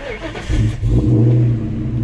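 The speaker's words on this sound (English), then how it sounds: "Let's start her up, and you're gonna hear, you know, the idling being a little tweaky." A 1999-2004 Ford Mustang GT V8 cranks and catches, then runs with a deep, loud, slightly uneven idle up close, the rumble building as it settles.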